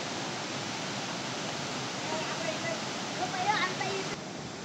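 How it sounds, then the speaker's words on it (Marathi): Randha Falls running heavy after extra water release, a steady broadband roar of rushing water filling the whole scene, with faint higher splashes near the end. "आज जास्तच पाणी सोडल्यामुळे पूर्ण साईडला पाणी वाहत गेलेले आहे"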